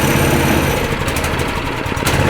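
The small engine of an abandoned mini bike runs loud and close with a steady, buzzy drone through the whole moment.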